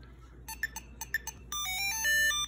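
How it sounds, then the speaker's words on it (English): A Tile Pro tracker beeps a short series of electronic tones, then plays a brighter rising activation melody, close and clear with no voices. "It'll play a little tune and then you click next."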